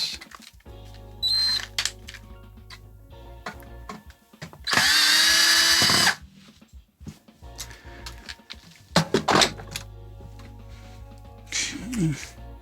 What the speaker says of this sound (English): Can the drill get in there?